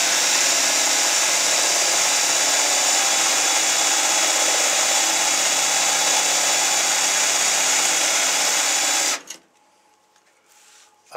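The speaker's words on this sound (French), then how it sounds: "Alors, vous prenez à peu près 15 degrés là, à peu près. Et là, vous percez." A power drill bores into wood at about a 15 degree angle for a homemade Kreg pocket-hole jig, a loud continuous whirring for about nine seconds that stops abruptly, leaving near silence.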